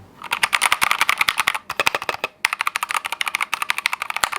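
Rapid keystrokes on a laptop keyboard, close and crisp, in quick bursts with brief pauses, no talking.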